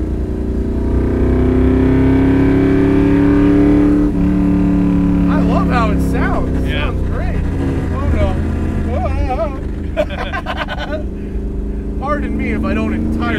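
A 1967 Ford Fairlane's engine drones loudly and steadily from inside the car while driving, its pitch rising slightly as it revs, with people talking over it throughout.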